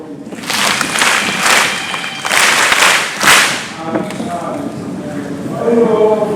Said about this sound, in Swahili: Haya, pigeni makofi.